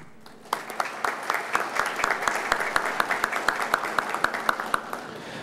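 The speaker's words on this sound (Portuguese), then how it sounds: "a qual peço uma salva de palmas." A ceremonial session of a legislative chamber honoring army reservists fills with audience applause, starting abruptly after a brief quiet moment and continuing as even, crisp clapping with individual claps standing out, steady through the end.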